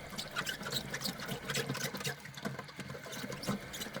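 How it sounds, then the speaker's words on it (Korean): An aquarium filter sponge rinsed in water dosed with sodium thiosulfate, giving a steady soft splashing and trickling with small squelches, close and fairly quiet. "스펀지를 깨끗하게 물로 헹궈준 뒤 티오황산 나트륨을 넣어준 물에 다시 세척을 해준 뒤 어항에 장착을 해줍니다"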